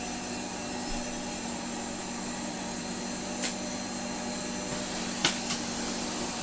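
A Hoover Sensotronic Total System 40 S3454 vacuum cleaner running on its low setting, giving a steady, even motor hum and whine close by, with a few brief clicks and knocks near the end.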